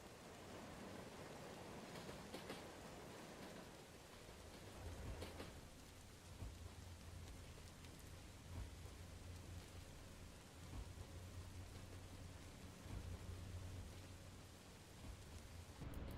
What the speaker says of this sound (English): The rain sounds nice.